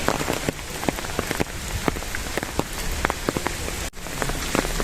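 Steady rain falling on a wet street, a dense continuous hiss with scattered louder drips and drops landing nearby, brief dip near the end, no voices.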